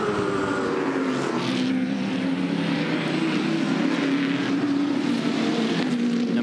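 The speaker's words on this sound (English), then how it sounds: "hard back on the throttle now." A Touring Car Masters race car at Bathurst accelerates hard on the circuit, its engine droning loud and steady with a rising pitch as the throttle opens, heard alone without talk.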